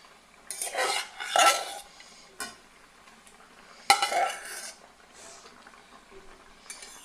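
Fried brinjal pieces go into a simmering khoyra fish curry in a pan, with several bursts of spoon-on-pan clinks and scraping during stirring, separated by quieter gaps.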